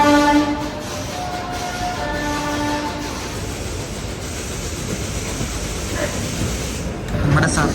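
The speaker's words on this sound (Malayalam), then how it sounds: "ആ സുബേദാർഗഞ്ച് എന്ന സ്ഥലത്ത് നിന്ന് ഉദംപൂർ പോകുന്ന ഒരു എക്സ്പ്രസ് ആണ് ഈ വരുന്നത്." An Indian Railways express from Subedarganj to Udhampur rumbles past with a sustained, loud roar of wheels and carriages, a horn blast sounding near the start, heard continuously from nearby.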